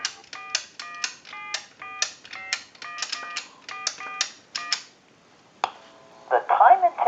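Touch-tone keys pressed one after another on a single-slot payphone, a steady run of about a dozen short paired-tone beeps, then a pause and a brief ringback or line tone.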